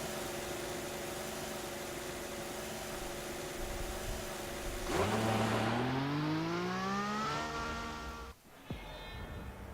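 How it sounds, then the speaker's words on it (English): A Ferrari Formula 1 car's engine in the F1 2014 racing game holds a steady high whine, then climbs sharply in pitch as it revs up, cutting off abruptly near the end. "The Ferrari definitely has a nice different engine sound"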